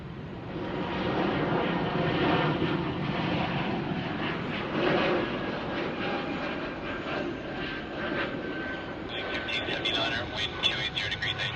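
An airliner landing on runway 34 left at Sydney Airport: a steady, broad jet-engine roar holding at moderate level throughout, with radio talk underneath and a rise in hiss near the end.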